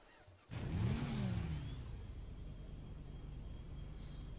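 Motorcycle engine in GTA 5 Online starts abruptly with a loud revving rise and falling pitch sweep, then settles into a steady low engine drone that continues to the end.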